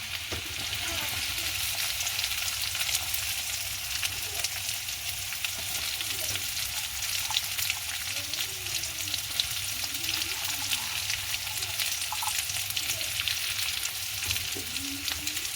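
Sliced big onions frying in oil for a dried anchovy (nethili karuvadu) puttu kothu, a steady broadband sizzle held throughout with faint stirring scrapes and occasional low voice-like sounds underneath.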